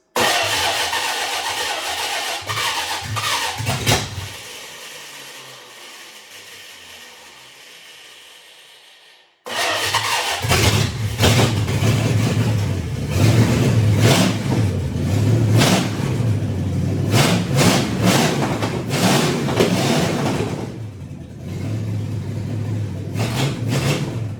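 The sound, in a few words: car engine starting and revving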